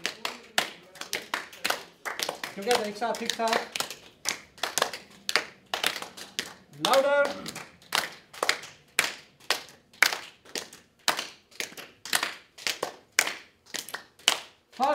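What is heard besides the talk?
group hand clapping in laughter exercise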